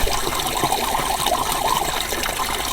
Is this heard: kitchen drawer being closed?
no